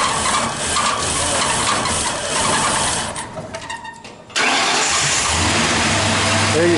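A Ford Crown Victoria V8 swapped into a 1961 Ford F100 short-bed unibody pickup cranks, sputters briefly, then catches and settles into a loud, steady idle up close.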